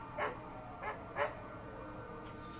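A dog in a TV show gives three short, strained whimpering barks spaced about half a second apart, moderately close and not very loud, over a quiet background hum.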